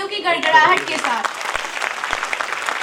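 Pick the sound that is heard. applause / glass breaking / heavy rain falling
applause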